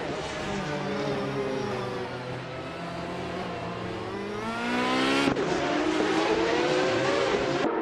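Race car engines in a racing video game roar and rev hard as the cars launch off the start line, a loud, continuous rising whine with overlapping engine tones and a sharp gear shift partway through.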